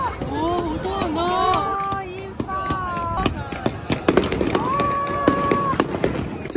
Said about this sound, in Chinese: 真的没想过这个旅程会看到烟花